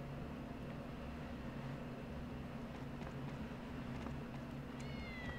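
A cat meows in the video game Tales of Xillia 2, faint under a steady hum of game ambience, with a short high mew near the end.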